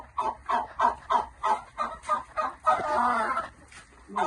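Chickens cluck in a quick, rhythmic series of short calls, followed by a longer, drawn-out squawk and a few more clucks nearby.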